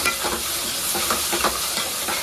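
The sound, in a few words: garlic paste being stirred and fried in a pan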